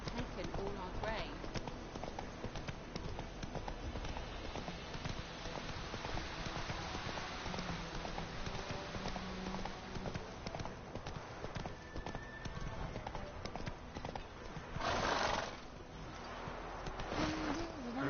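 Horse hooves galloping in The Witcher 3, a steady rapid clip-clop running throughout over rain-like background noise, with voices speaking over it.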